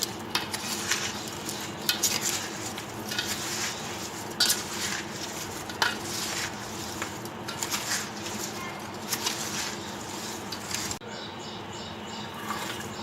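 Pickle pieces being tossed with spices and oil for a homemade achar, giving a soft continuous wet rustle with small clinks and scrapes of a utensil against the bowl, fairly quiet and close.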